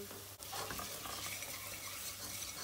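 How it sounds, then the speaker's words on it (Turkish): Dried mint and tomato paste frying in oil in a pan give a steady, close sizzle that runs unbroken the whole time, with soft stirring scrapes on top and a brief dip near the start. "Naneyi de ortalama 20 saniye kadar bir kavurdum salçayla beraber"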